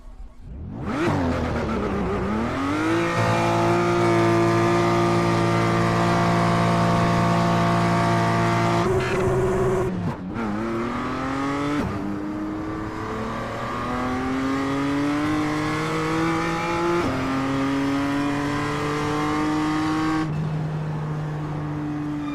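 A GT4 race car in iRacing laps Oulton Park, its engine revving hard through repeated gear changes that rise and drop in pitch, loud and close with no talk.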